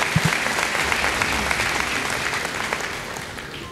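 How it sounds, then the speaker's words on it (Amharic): A live audience bursts into dense, sustained clapping on stage, loud and even throughout before easing slightly at the end. "አጨብጭቡላት እስቲ"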